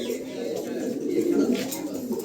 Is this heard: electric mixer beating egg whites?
no